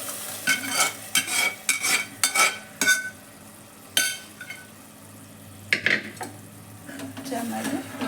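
Mashed toor dal is added to a rasam pan and stirred in: a quick run of rhythmic spoon scrapes and clinks against the pan, then sparser knocks over a low simmering hiss.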